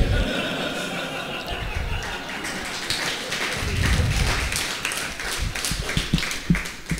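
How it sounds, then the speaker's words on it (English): An audience claps in a small room, a steady patter of many hands that swells in the middle and runs on for several seconds with no one speaking. "Please don't clap."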